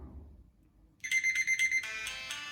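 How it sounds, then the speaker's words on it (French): An electronic alarm beeps in quick repeated pulses, then shifts to a louder, denser ringing tone; close and clear with no talking. "notre alarme est constituée d'un système lumineux et sonore"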